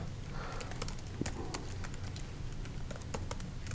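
Fast, steady computer-keyboard typing while a campaign name is entered in email software, dense close clicks running the whole time with no talking.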